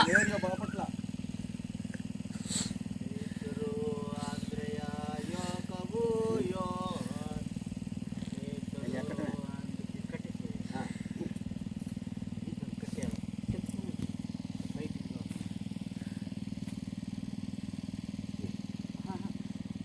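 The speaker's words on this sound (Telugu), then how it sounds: "వచ్చేసింది బోటు మీకోసం" A motorboat engine drones steadily throughout a river crossing at Uppara Palem, a close, even motor hum that carries on beneath a voice talking over it.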